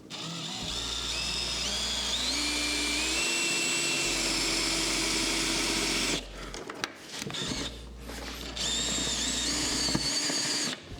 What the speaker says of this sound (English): So we need to go full send with that drill bit there.